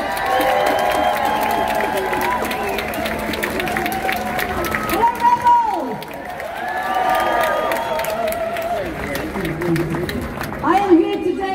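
A protest crowd at an Extinction Rebellion rally in London cheers and applauds as a speaker is welcomed, sustained clapping and whoops filling the air with voices mixed in, swelling again near the end.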